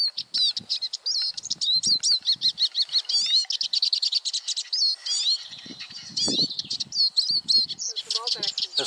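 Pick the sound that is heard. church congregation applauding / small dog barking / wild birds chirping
wild birds chirping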